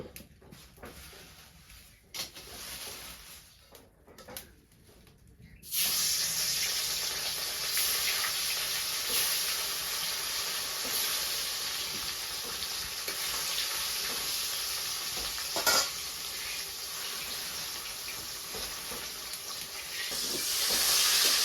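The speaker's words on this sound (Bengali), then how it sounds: "আমি এখন মাছ ভাজি করবো" Fish fries in hot oil in a wok. After a few quieter seconds, a loud, steady sizzle and hiss start abruptly and continue unbroken to the end, close and with no talking over them.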